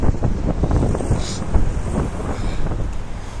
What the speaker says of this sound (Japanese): 強風半端じゃないよ。